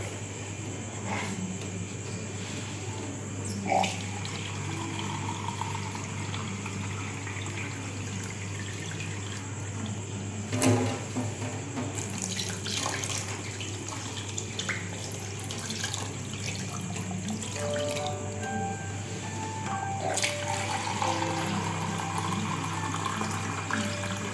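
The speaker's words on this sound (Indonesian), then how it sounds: "Oke, ini kita kasih air." Water running from a tap and poured over fish in a pan for arsik, a steady close hiss of flowing liquid with faint drips and clinks throughout, no talking.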